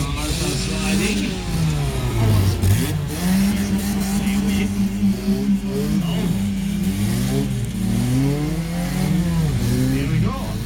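Monster truck cars at an outdoor show rev and rise and fall in pitch as they slide around the course, loud and continuous, with a voice speaking over the engines.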